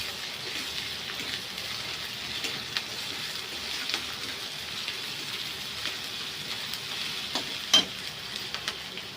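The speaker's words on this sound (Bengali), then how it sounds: "এবার ওর মধ্যে আমি রসুন বাটাটা দিয়ে অল্প একটু নেড়ে নেবো" Onions fried until reddish with garlic paste added, stirred in a pan, give a steady moderate sizzle that runs throughout, with a few brief scrapes and clicks of stirring near the end.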